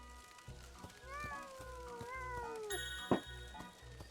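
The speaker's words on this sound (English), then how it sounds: "I hear cat." Cartoonish cats in a video game let out several rising and falling meows over a rhythmic musical backing, ending in a brief sharper yowl.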